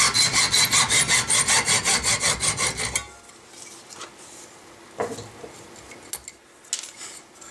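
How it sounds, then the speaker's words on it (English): A hand saw cuts through the end of a metal ramrod thimble in about a dozen quick, rhythmic rasping strokes, close and loud. Quieter scraping and a few sharp metallic clicks follow as the work is handled. "I don't want to actually cut into the circle of metal, just behind that a little bit, and take off about 1/4 of an inch of the length."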